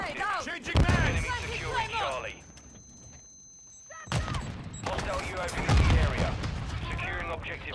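In the video game Call of Duty Modern Warfare II, rapid bursts of gunfire crackle in sharp clusters, falling quiet briefly midway before another loud burst, with someone talking over much of it.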